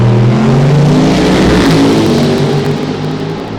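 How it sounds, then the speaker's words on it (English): At a 275 small-tire drag racing event, race car engines sit at the start line, including a nitrous-assisted first-generation Camaro. They produce a loud, close, continuous roar that holds high revs throughout, with layered engine tones and no pauses. "The RPM is going to start coming up on Shannon's machine."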